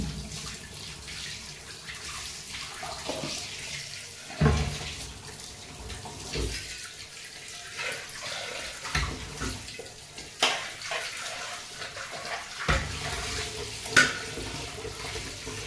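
Goat tripe is stirred by hand in salted water, producing wet sloshing and splashing in irregular swishes, moderately close, with no talking.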